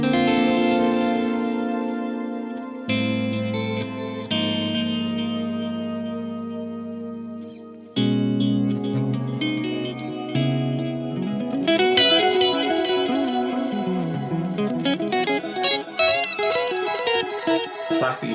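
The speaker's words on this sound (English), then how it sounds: "natural delay. It just washes over with a bit of a synth note." Electric guitar fed through a Boss DD delay pedal, held chords blooming into a synth-like wash of repeats, then a climbing run of notes that echoes and overlaps in a dense, shimmering tail.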